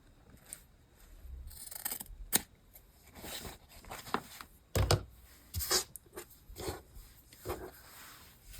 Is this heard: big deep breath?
no